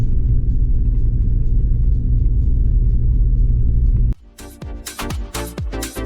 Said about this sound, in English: We drive a Toyota Land Cruiser 120.